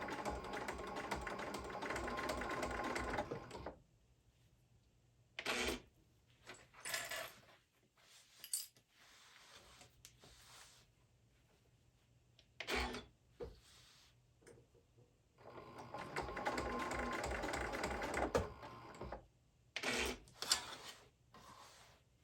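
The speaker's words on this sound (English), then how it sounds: "This machine is supposed to leave the thread on the bottom side of the material" An industrial sewing machine stitches a Boston bag in two long mechanical rattling runs, separated by quiet gaps with short clicks and bumps as the material is repositioned.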